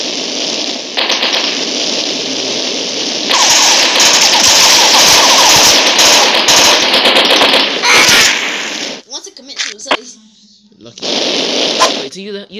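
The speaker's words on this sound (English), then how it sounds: "I get to double my Uzis now. I can kill you faster." Dual Uzi gunfire in a video game, loud rapid bursts of automatic fire that come and go, with an abrupt break and dropout toward the end.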